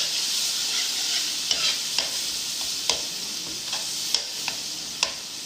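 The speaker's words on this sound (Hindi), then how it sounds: "अब इस मसाले को हम थोड़ा भूनेंगे" Masala of ground spices with dry coriander being stirred and roasted in a pan for potato curry, a steady close sizzle broken by repeated sharp spoon scrapes and taps.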